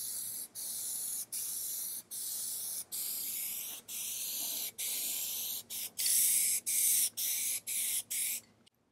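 Aerosol can spraying a second coat of Plasti Dip onto a car grille, heard as a series of steady hissing bursts of about half a second to a second each, separated by brief pauses, close to the microphone with no talking.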